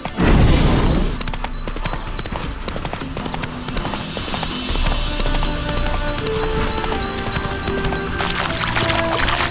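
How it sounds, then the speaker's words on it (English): Horse hooves clip-clopping in The Witcher 3: Hearts of Stone, a rapid rhythmic patter of hoofbeats running steadily throughout, with a loud thump at the start, a whinny and game music underneath. "Spooking my horse."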